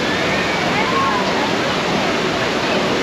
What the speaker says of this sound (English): You've got the Wild River, which is kind of a log flume just here